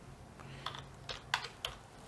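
Computer keyboard keys are tapped in a short, faint burst of a few irregular clicks while code is written for an Arduino, with no voice over it.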